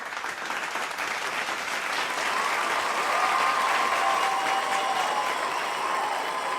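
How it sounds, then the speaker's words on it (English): Sustained audience applause fills a large hall after a New York Knicks contract announcement, dense steady clapping that swells slightly midway and holds loud and continuous without voices. "Let's hear another round of applause."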